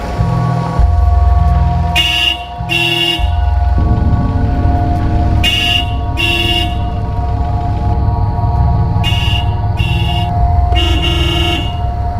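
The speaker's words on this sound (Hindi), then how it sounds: "कब से हॉर्न बजा रहा हूँ, जल्दी नहीं आ सकता क्या?" Repeated car horn honks, short paired beeps sounding again and again over a loud idling engine rumble, close and insistent.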